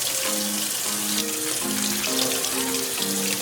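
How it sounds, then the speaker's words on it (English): Tap water pours steadily into a sink of dishwater, a constant close rushing splash with a faint ringing tone over it throughout. "I already have my dishwater right here running"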